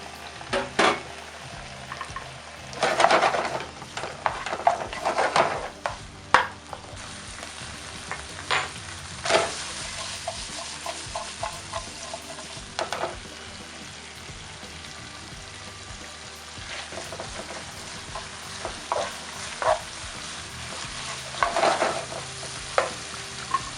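Pork stir-frying with onions in a hot pan for Singapore noodles, a steady sizzle broken by scraping and clattering stirs that rise loudly and irregularly throughout.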